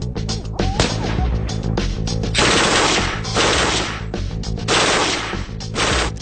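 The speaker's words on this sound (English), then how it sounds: "television doesn't do justice to the terrifying racket this beast makes" A Mark 48 machine gun on a training range fires long, loud, continuous bursts of rapid shots, the roaring automatic fire dominating with only short breaks between bursts.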